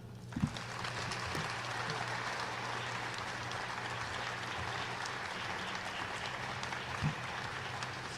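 A crowd applauds to welcome Scott Satterfield, the new head football coach at the University of Cincinnati, with steady sustained clapping filling the room and a couple of sharper claps standing out.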